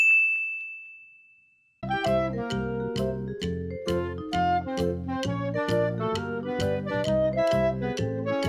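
A Redmi 7 phone running MIUI 10 switches on: a sustained tone fades out, then a bright, chiming startup tune of rapid, evenly spaced ringing notes plays clearly and close, with no talk.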